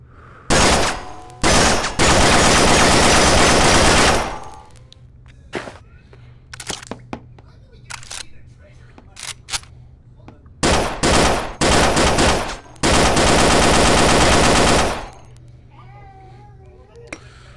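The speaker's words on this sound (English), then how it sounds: "So that is the Bren Mark II. See if I can hit a target." A Bren Mark II machine gun fires in the World War II weaponry of the VR game Gun Club VR, long loud bursts of rapid automatic fire broken by shorter volleys and single shots.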